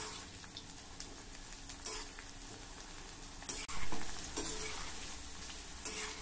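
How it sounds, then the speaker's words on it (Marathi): Okra and cluster beans frying in hot oil, giving a steady close sizzle with occasional stirring scrapes and a louder burst partway through. "गवार आपल्याला जरा कमी तळायची आहे"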